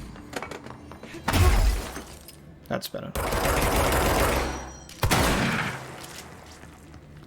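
Shatter shotgun firing in the video game Control, heavy bursts at about 1.2, 3.1 and 5 seconds each followed by a sustained crackling spray of debris, with someone speaking briefly over it.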